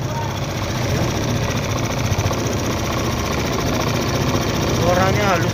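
A Yamaha GTR motorcycle engine idles in a steady, smooth, even drone, close and fairly loud throughout.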